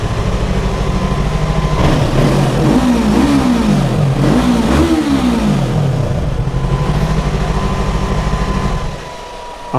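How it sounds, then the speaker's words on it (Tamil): A 2024 Yamaha R3 motorcycle engine idles and then revs repeatedly, its pitch rising and falling in several loud bursts before settling back down. "யாரோ ரிவ் பண்ணுறாங்கடா வீட்டுக்குள்ளே"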